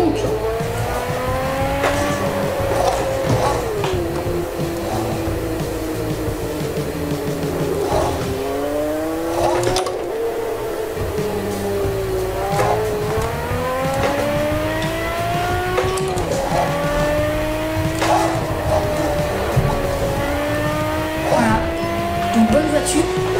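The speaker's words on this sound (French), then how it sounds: "c'est quand même une voiture qui a un joli bruit" A car in the Test Drive Unlimited 2 racing game, its engine revving up and shifting through gears in repeated rising sweeps, with occasional tire squeal, loud and continuous, while someone talks over it.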